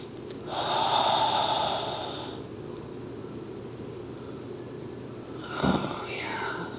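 Slow, audible breaths during a guided myofascial release hip exercise with balls under the body: a long airy exhale early on, a quiet stretch, then a short sharp intake near the end, close and alone.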